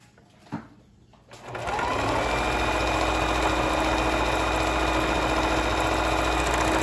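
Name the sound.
sewing machine straight stitching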